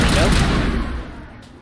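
A shotgun blasts in the Mass Effect video game, one loud burst that fades away over about a second and a half, with no talk over it.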